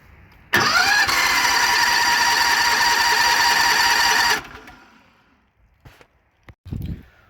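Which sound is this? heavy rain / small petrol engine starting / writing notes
small petrol engine starting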